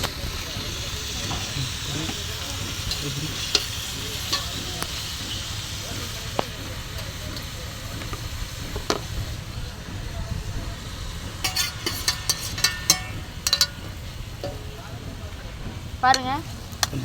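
Onions and tomatoes frying in a pan give a steady low sizzle with intermittent clatters and scrapes, close by, with some speech over it.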